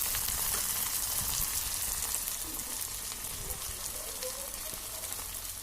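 Chopped raw green chillies hiss and crackle in a pan while being stirred for baingan bharta, a steady dense sizzle that eases slightly toward the end with faint scraping.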